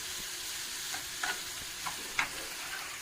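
Potatoes and peppers fry in a pan with a constant sizzle while a spoon stirs them, giving several sharp scraping clicks at irregular intervals. No voices are heard.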